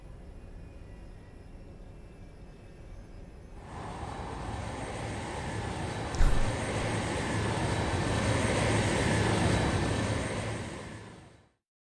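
A plane flies in Metal Gear Solid 4, a steady engine drone that swells into a loud, broad roar partway through, holds, then cuts off abruptly at the end.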